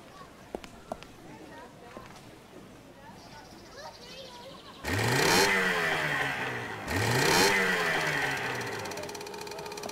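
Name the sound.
motorboat engine running, from a video game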